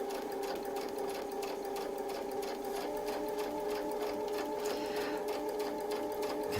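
A sewing machine stitches steadily across a Westalee Mini Spin-e-fex quilting template, a continuous close whirring hum with a fast regular needle rhythm throughout, alone without talk.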